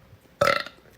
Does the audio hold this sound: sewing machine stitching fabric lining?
no